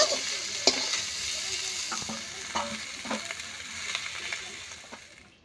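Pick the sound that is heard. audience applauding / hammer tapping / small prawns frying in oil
small prawns frying in oil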